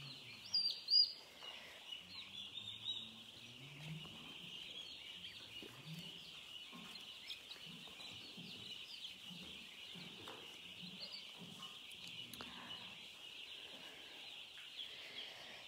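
Farm turkeys and chickens clucking and calling in a barn, a few louder gobbling clucks near the start, then softer intermittent clucks over a constant high hiss of background noise.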